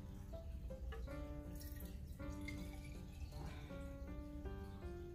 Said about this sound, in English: So now we have to add water on our vase.